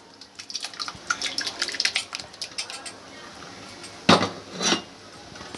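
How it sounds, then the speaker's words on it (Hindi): Mutton for khichda gets stirred in a cooking pot, with wet clinks of a spoon against metal and splashy drips at close range, building to a couple of louder scrapes near the end. "अब इसमें अच्छे से मिक्स कर लेंगे हम गोश्त को"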